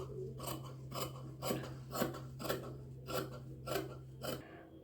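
Scissors cut through blouse fabric in about eight evenly spaced snips, close and quiet over a faint steady hum, with no talking.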